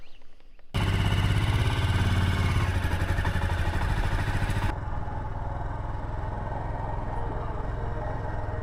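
A motorcycle rides through the Namibian desert, its engine cutting in suddenly with a loud, close, rough drone, then easing to a steadier, quieter run as the bike pulls away from a campsite.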